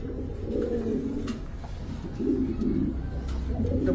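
High-flyer giribaz pigeons coo softly in low, rolling murmurs that overlap in a steady, close chorus.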